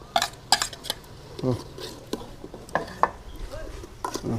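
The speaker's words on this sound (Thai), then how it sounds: "ไฟมันแรงครับเลยต้องคนบ่อย ๆ เดี๋ยวมันจะติดกระทะโอติดหม้อ" Thai khi lek curry with coconut milk is stirred in a pot over high heat, with a ladle knocking and scraping against the metal in irregular clanks and a soft simmer beneath.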